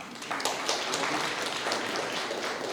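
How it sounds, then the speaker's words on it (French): An audience at an official business launch ceremony claps for several seconds, a fairly soft, even patter of many hands with no voices standing out. "Applaudissez-la s'il vous plaît."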